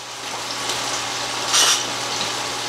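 A ginger chicken mixture with lime juice stirred in a hot pan, continuous close sizzling hiss with a short louder scraping surge midway.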